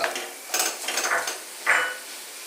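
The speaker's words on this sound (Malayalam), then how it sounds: "നമുക്ക് ഇളക്കാം." A spoon stirs a sweet filling spiced with cardamom and cumin powder in a pan, making a few distinct scraping and knocking strokes over a faint low sizzle, close and fairly loud.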